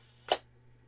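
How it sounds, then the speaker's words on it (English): A Kiev 60 medium-format film camera fires its shutter at a half-second speed, giving one crisp mechanical snap. It is close and clear, with a short decay and then quiet. "I'm going to press the shutter. It's on half a second."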